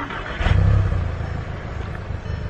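A car engine with a resonator-delete exhaust rumbles low and steady after a brief rise, idling with a throaty, slightly raspy exhaust note throughout.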